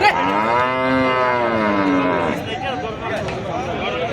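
Cattle low in long, drawn-out moos at the busy Sarulia weekly cattle market, loud and close, with crowd chatter and other market noise underneath.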